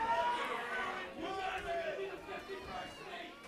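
A wrestling crowd chatters, cheers and shouts in a steady, dense roar at a live match, with a voice talking over the noise throughout.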